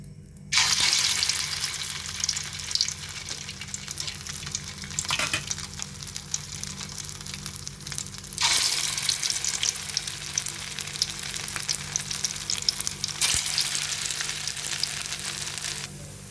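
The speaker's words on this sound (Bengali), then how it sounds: "এখন আমি বড়াগুলি ভেজে নিচ্ছি। একটা কড়াইয়ের মধ্যে আমি পরিমাণ মতো রান্নার সয়াবিন তেল দিয়ে দিয়েছি।" Prawn fritters frying in soybean oil in a wok, giving a steady, close sizzle and crackle that runs the whole time with occasional surges and light stirring scrapes, no voices.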